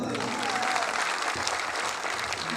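A crowd at a college spring festival and cultural day ceremony claps steadily and loudly throughout, a dense wash of applause with no pauses.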